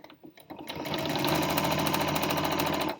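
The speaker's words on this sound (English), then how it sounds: "I'm going to take it back to the machine, and I'm going to start at the corner, and I'm just going to sew." A sewing machine stitches binding onto a quilt, starting with a few short taps before settling into a loud, steady run of rapid needle strokes that stops at the end.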